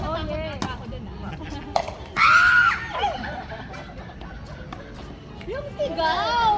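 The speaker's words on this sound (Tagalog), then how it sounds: "Yung sigaw!" A sharp, loud scream rings out during a lively smash game, cutting through excited chatter and laughter from nearby players; a second shorter shriek comes near the end.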